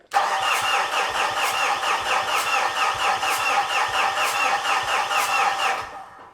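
A Fuso FG truck engine cranks steadily for about six seconds with a fast, even rhythmic churning of the starter, loud and close, then stops abruptly without settling into a clear idle.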